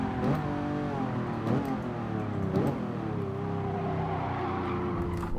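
A car engine in the racing game GT Sport revs repeatedly, rising in pitch through several gear shifts, loud and steady with no voices over it.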